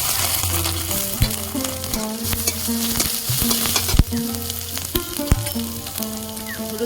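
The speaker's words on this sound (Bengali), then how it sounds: "আমি ভালো করে ভেজে নিয়েছি আদা বাটা দেবো" Ginger paste fries in a pan while a metal spatula stirs and scrapes it constantly, the scraping ringing over a bed of loud sizzle, with occasional sharp knocks.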